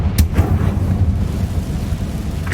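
A fire blast spell explodes in the Hogwarts Legacy video game, a loud rumbling boom with sharp crackling bursts at the start that rolls on steadily through the whole moment.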